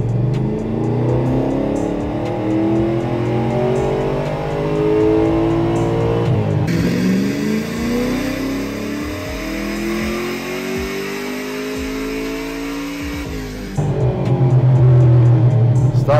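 Chevrolet Impala's LSX 454 V8 revving at wide open throttle on a dyno: a loud, close engine roar sweeping up through the gears in long rising pulls, with a brief shift break and an intense high-rev stretch before the run ends.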